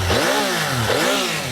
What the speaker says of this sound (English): let's proceed by turning it on and performing a few delightful revs